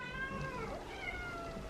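Feral cats meow at breakfast time while being served homemade raw food with warmed chicken broth, giving drawn-out, rising and falling cries that run continuously and close by with no talk.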